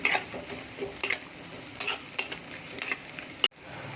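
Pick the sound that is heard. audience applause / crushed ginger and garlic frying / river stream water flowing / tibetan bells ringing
crushed ginger and garlic frying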